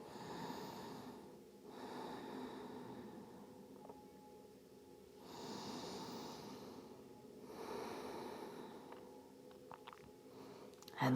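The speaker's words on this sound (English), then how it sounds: "3 deep breaths here." Slow, deep breathing during a yoga pose, with long audible inhales and exhales that rise and fall in a steady rhythm and sit close and soft.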